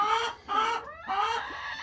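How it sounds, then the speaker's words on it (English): Hens cluck loudly inside a coop fitted with laying boxes, giving several close, bursting calls with short pauses between them. "Sorry about the hens, they're very loud."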